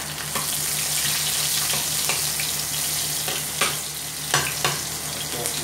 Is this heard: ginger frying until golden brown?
yes